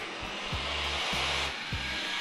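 A window-cleaning robot vacuum, clinging to the glass with a safety cord attached, runs with a steady broadband suction whoosh. Low motor pulses repeat about every half second as it works across the window.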